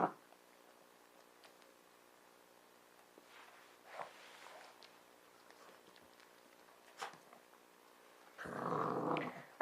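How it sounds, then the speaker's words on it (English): Young puppies make soft, playful growling and grumbling noises in a quiet home, several brief bursts scattered across the stretch, ending in a louder, sustained rumbling growl close by. "I know this noise sounds like growling, and I suppose to an extent it is"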